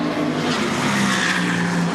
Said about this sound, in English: makes the most out of the engine of the powerful Ferrari engine